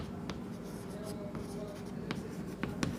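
Chalk or pen strokes on a board during a physics lesson on momentum, a few short scratchy taps and drags spaced across the moment, faint against room noise and soft background talk.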